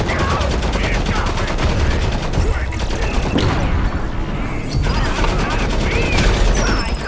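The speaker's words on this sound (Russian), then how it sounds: "Я бросаю гранату." Grenade blasts and rapid gunfire in the mobile shooter Modern Combat Versus, a dense, loud, continuous barrage of shots and crashing impacts with no letup throughout.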